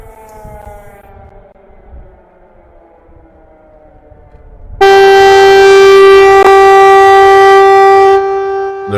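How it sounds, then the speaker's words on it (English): A loud, steady air raid siren wail in Kyiv, Ukraine starts abruptly partway through, after a quieter rising tone, and holds at full volume nearly to the end. "That air raid siren is too loud for me to talk over"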